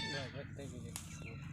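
A peafowl hen or chicken gives short honking, clucking calls with a brief sharp squawk, fairly faint and close, against a murmur of background noise.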